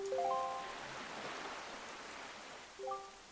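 Steady rain falls on the Ravaged Isle in The Wind Waker, a soft, even wash of hiss with short musical tones at the start and end.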